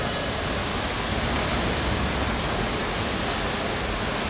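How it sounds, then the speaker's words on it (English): Steady broadband roar of bicycle wheels rolling around the banked track during a women's under-19 scratch race in an omnium at a live track cycling event, continuous and even throughout. "the white noise of the rollers humming in the background"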